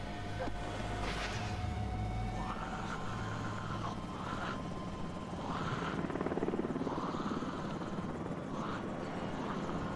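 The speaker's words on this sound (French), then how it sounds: "C'est quoi ce délire avec l'hélicoptère?" A helicopter flying overhead in The Walking Dead season 8, episode 14, a steady rotor drone with sweeping tones running throughout the clip.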